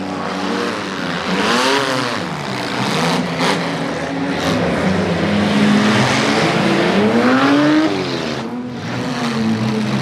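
Race cars roar around a dirt track at a fall festival race, their engines loud and continuous with rising and falling revs as cars pass close by, forming a dense, sustained wall of motor noise.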